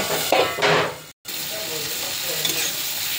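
Koi fish fries in spices in a pan, with a couple of scraping stirs followed by a steady, close sizzle and faint utensil clinks.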